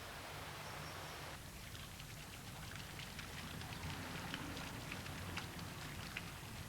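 Steady rain falls over a natural landscape of lakes and rivers, a dense, even hiss with scattered brighter drop patter throughout, continuous and moderately faint, with no voices.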